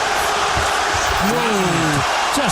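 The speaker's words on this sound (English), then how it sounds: "And listen to the crowd here in Montreal." Boxing crowd in a Montreal arena, a loud, steady wash of cheering and roaring that fills the space, with a raised voice or horn-like tone rising and falling above it.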